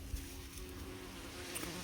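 Bees buzz around garden flower stalks and self-sown foxgloves, a soft steady hum heard faintly outdoors and unaccompanied, without talk.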